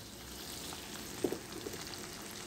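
Sliced onion is added to a pan already frying calabresa sausage, and a soft, steady sizzle follows, with a faint clatter or two as it goes in.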